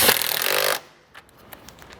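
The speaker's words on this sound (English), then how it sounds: "Now you can set your two 10mm plastic screws back in." Power tool driving 10mm plastic screws back in on a Porsche 911 997 during rear control arm work, a loud buzzing whir for under a second, followed by faint clicks and handling noises.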